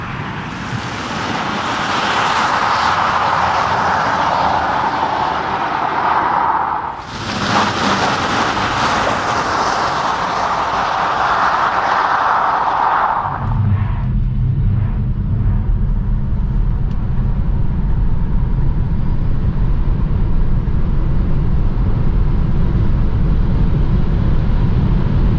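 A 2021 Tesla Model 3 Performance pulls hard from 100 to 200 km/h, a loud, steady roar of wind and road noise that drops abruptly to a lower, rumbling drone partway through.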